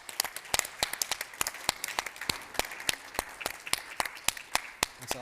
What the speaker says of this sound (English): One more round of applause, guys